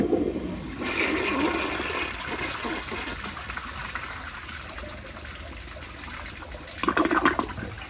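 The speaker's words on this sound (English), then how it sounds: "I'm gonna turn down the pressure and do a couple more flushes just to see how well it does." A 1965 Kohler Barlow toilet on a flushometer, run at reduced water pressure, flushes with a loud rushing gush that eases into a steady trickle and refill, then a brief surge near the end.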